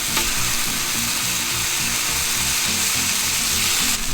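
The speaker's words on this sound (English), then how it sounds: "We're gonna sear these steaks by putting them on there." Steaks sear in olive oil on a hot griddle at a winter campsite, giving a loud, steady, continuous sizzle and crackle that runs unbroken throughout with no talking.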